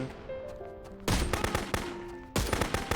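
Video game gunfire in Contraband Police: rapid automatic bursts and repeated shots crack in two dense volleys separated by a short lull, loud and close.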